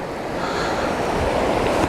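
A river near Dagger Falls rushes in a steady, loud, close roar of flowing water, mixed with some wind buffeting the microphone and no talking.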